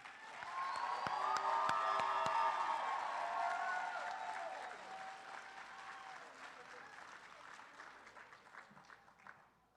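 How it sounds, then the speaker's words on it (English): At a senior commencement ceremony, an audience claps for the whole graduating group, a broad wash of applause that swells and then slowly fades out, with a voice speaking over it. "I would like to ask to all have one more last applause for the entire group."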